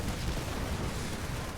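StarCraft 2 siege tanks firing in battle, a dense, continuous rumble of heavy booming impacts without gaps, loud and close throughout.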